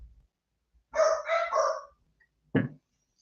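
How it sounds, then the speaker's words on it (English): Dogs bark indoors: a short run of three or four loud, close barks, then a pause and one more sharp bark, with no talking. "So let me just let the dogs bark."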